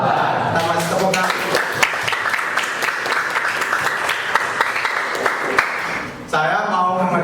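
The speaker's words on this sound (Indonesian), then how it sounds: "Kita masih tepuk tangan." Schoolchildren clap together in a classroom, a dense, steady patter of many small hands that runs several seconds, then stops abruptly before a brief burst of lively voices.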